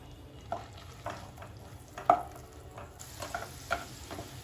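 Chopped garlic sizzles gently in butter over a low flame, a steady soft frying hiss broken by occasional scraping stirs and light clicks of a utensil against the pan, close up with no voices.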